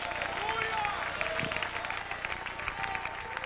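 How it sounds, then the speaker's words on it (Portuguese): A church congregation applauds at a Portuguese-language worship service, with steady dense clapping throughout, a few voices mixed in beneath it. "Aplauda ao Senhor com alegria"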